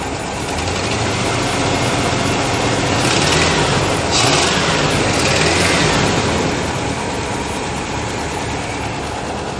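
An old-body-style Ford F250 pickup that sat for a decade, its engine revved with a rise in roar around the middle before settling back to a steady, loud idle, no voices.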